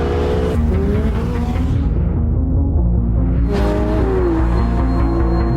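A bright yellow Ferrari 488 Pista drives on a track, its engine loud and close with rising and falling revs and gear changes, a sustained roar throughout.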